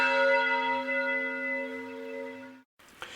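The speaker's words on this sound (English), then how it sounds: "The school bell went just then." A school bell rings in a steady, sustained electric tone for about two and a half seconds, loud and close, then cuts off abruptly, followed by a brief rustle.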